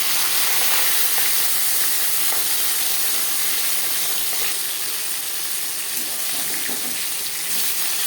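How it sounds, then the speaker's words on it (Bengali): Marinated silver carp head and pieces fry in hot refined oil, giving a bright, steady, close crackle that runs unbroken and fairly loud, with faint splashy spatter mixed in and no talking. "এবার দিয়ে দেব ম্যারিনেট করে রাখা মাছের মাথা আর দিয়ে দেব মাছ।"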